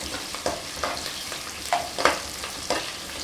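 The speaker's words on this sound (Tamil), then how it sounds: "வெங்காயம் வதங்குற மட்டும் நல்லா சிகப்பாக ஆகணும்." Small onions sautéing in oil for a fish curry, a soft steady sizzle punctuated by several brisk spatula scrapes against the pan, close up and without talk.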